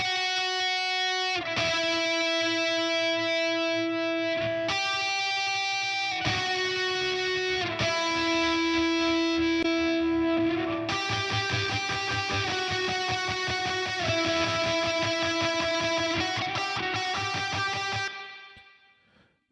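A synth lead melody plays through a stereo reverb plugin in a music mix, sustained bright notes in phrases broken by short gaps, ending in a quick fade.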